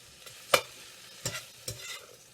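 Cauliflower pieces sautéing in butter in a pan, with three distinct scraping stirs of a utensil over a faint, steady sizzle; close and moderately quiet, no talking.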